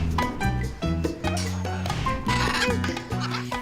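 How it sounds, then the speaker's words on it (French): A 23-year-old female blue-and-yellow macaw gives a run of loud, harsh squawking calls in rapid, uneven bursts, close by, with short gaps between them. "c'est un perroquet, une femelle, Ara ararona plus précisément, qui est âgée de 23 ans"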